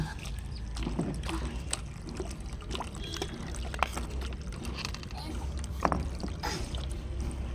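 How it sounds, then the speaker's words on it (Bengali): Water poured into an aam panna, a raw mango drink seasoned with chaat masala, a soft, low trickling and splashing with a few faint clinks, quiet and close. "এবার আমি জল দিয়ে দেব।"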